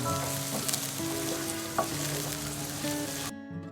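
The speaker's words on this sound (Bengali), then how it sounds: "পেঁয়াজটাকে ভেজে নিব যতক্ষণ না পেঁয়াজটা হালকা বাদামি রঙের হয়ে যায়" Onions for a beef keema curry fry and get stirred in a pan, a close, steady sizzle with occasional spatula scrapes for about three seconds before cutting off abruptly.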